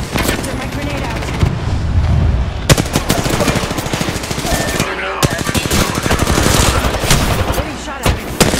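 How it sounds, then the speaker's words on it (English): Rapid bursts of automatic gunfire crackle in Apex Legends, close and loud, with short pauses between volleys and a few heavier single shots mixed in among game effects. "Getting shot at."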